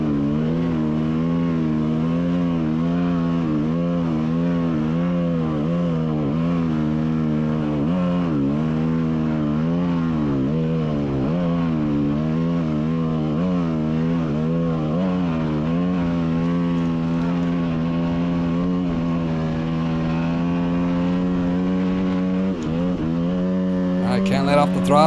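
A motorcycle engine held at full throttle while climbing a volcanic cinder hill drones loud and continuous, its pitch wavering up and down with the load, close throughout.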